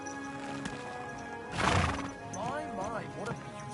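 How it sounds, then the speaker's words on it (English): A horse neighs in the video game Kingdom Come: Deliverance 2: a loud, breathy snort bursts out, then a wavering, rising-and-falling whinny follows, close and clear over a steady background hum. "My, what a beautiful horse."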